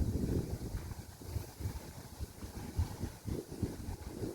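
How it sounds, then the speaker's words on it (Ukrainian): Strong wind buffets the microphone in uneven low gusts, rumbling and roaring without any talking. "Піднявся знову такий вітер сильний."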